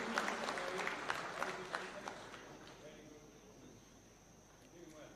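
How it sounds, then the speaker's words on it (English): An audience at a Taxpayers' Day awards ceremony with the president in attendance claps, fairly faint and distant, the applause fading out over a few seconds while an announcer's voice carries over a public address system. "Let's give them a warm clap as they receive these awards"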